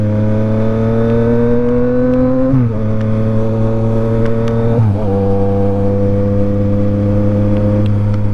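Yamaha MT-09 motorcycle being ridden, its engine a loud, steady droning hum held at constant speed, with two brief dips in pitch around gear changes before settling back into the same even tone.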